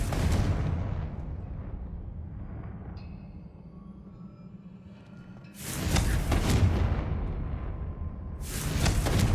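A Confringo blasting spell explodes in the video game Hogwarts Legacy: two loud, broad booming bursts, one lasting about two seconds and a second starting at the end, with quiet low rumbling ambience before them.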